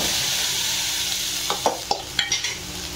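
Toor dal lentils sizzle steadily in hot oil tempering close by, with a few scraping stirs of a spoon against the pan toward the end.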